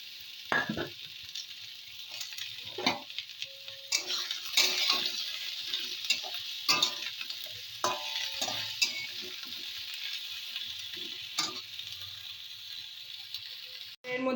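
Taro stolons hit hot oil already sizzling with nigella seeds and chilli, giving a steady close-up sizzle broken by sharp scraping clicks of a spatula stirring in the pan.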